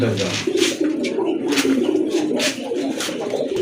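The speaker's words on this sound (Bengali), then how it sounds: "আরেক জোড়া কবুতর দেখতে পাচ্ছেন, সাপচিলা কবুতর, খুবই চমৎকার" Pigeons coo in soft, repeated throaty phrases at a pigeon farm, close and clear, with a voice talking over the birds throughout.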